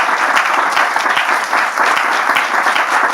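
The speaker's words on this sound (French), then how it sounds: "On peut applaudir les différentes interventions." Audience applause fills the room at a church gathering, steady and dense for the whole stretch, many hands clapping close by with no voices rising above it.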